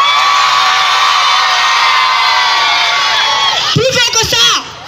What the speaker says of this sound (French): faites beaucoup de bruit pour vous-même